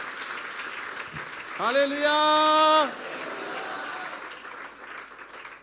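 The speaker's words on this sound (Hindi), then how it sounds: "यीशु की जोरदार तालियां बजा दो।" A church congregation in Dubai applauds during a sermon, with steady clapping running throughout. A loud, drawn-out shouted exclamation from a voice rises over the clapping partway through.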